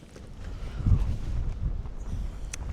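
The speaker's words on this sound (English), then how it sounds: "It's windy, but the weather is pretty decent." Steady wind buffeting at a night wild camp in the Black Mountains, a low rumbling roar with gusts swelling and easing throughout, with no voices.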